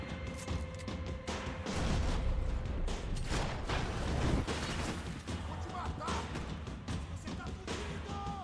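Gunfire in the Max Payne video game: dense, loud bursts of shots and impacts come in clusters across the clip, with a brief lull partway through, over busy game background noise.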